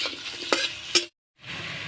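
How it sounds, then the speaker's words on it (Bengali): Steady broadband sizzle of potatoes frying in hot oil with a couple of sharp stirring clatters, then a brief silent gap before the sizzling resumes. "তেলের ভিতরে আমি আলু ভেজে নিচ্ছি"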